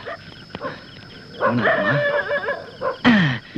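A dog barks and yips in a Tamil film comedy scene, several sharp barks scattered over a few seconds with a louder yelp near the end, close and clear.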